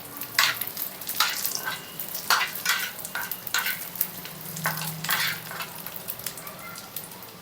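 Cashews and raisins fry in a pan with a bright, continuous sizzle, broken by repeated scraping strokes of a spoon stirring them.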